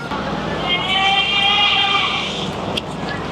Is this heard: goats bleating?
yes